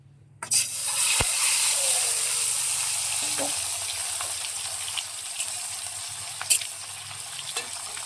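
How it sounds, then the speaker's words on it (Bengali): Eggs tossed with a little turmeric sizzle and spit in hot oil, a steady broadband frying hiss that starts with a sharp burst when they hit the pan and continues close-up with occasional pops. "তো এবার ডিমটাকে ভেজে নেবো আমরা"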